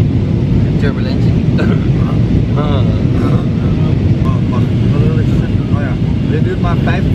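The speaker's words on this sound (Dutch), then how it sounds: "we zitten nu in het vliegtuig naar Amsterdam" Steady airliner cabin roar on a short flight to Amsterdam, a constant loud drone throughout, with people talking over it.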